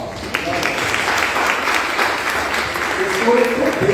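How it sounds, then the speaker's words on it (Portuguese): Applause from a church congregation at a Thursday evening service, a steady broadband patter of clapping hands lasting throughout, fairly loud and close with a few louder bursts near the end. "Vamos dar uma salva de palmas."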